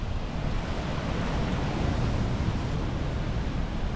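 Surf at a beach on the Perhentian Islands in Malaysia, a steady, loud wash of breaking waves with a constant roar and no pauses, recorded close to the water with some wind on the microphone.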